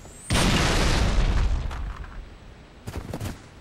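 A loud explosion booms in the Halo 3 video game, a sudden heavy blast that rumbles and decays over about a second, followed by a couple of smaller pops and a brief burst.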